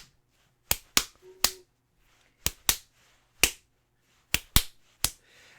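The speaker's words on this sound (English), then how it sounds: "a very awkward and off-rhythm" Sharp, isolated claps burst out at uneven intervals inside a bakery, about ten in all, grouped in ragged clusters with short silent gaps between them.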